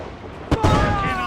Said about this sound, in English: Keep a safe distance and use the mortar on her.